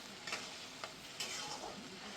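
Masala frying in a pan with a little added water makes a quiet, steady sizzle and bubble, broken by a few brief stirring scrapes.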